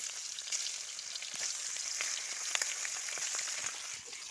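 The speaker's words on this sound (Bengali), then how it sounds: "রান্নার আগে একটু মাছগুলোকে আমি ভেজে নেবো ভালো করে একটু ভেজে নেবো" Hilsa fish pieces fry in hot oil in a wok, a constant bright crackling hiss with small pops throughout, quiet and steady with no voices.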